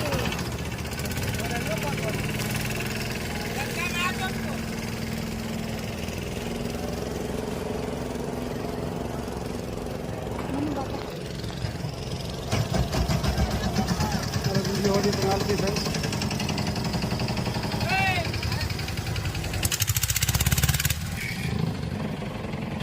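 A boat engine drones steadily throughout on the water at Omkareshwar, loud and close, with rattling and voices talking over it, rising slightly toward the end.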